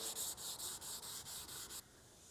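Hand sanding on repaired car bodywork around a filled area of an HQ: a steady rhythmic scrubbing of about eight even back-and-forth strokes, close and moderately loud, stopping abruptly near the end, with no talking.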